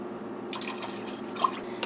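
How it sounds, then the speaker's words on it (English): Tap water runs into a cooking pot on a kitchen stove, a fairly quiet, steady splashing rush that starts partway through, with a few brighter drips and spatters and no talking. "And I am going to fill this can up with water."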